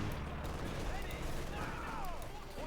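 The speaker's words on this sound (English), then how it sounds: "being absolutely ripped apart there by German sniper and machine gun fire" Machine gun and German sniper fire in the Company of Heroes 2 strategy game crackles in scattered bursts, some faint and distant, under continuous commentary.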